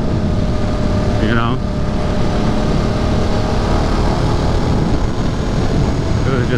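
A motorcycle under way makes a loud, continuous engine roar mixed with wind buffeting, with a brief spoken remark over it.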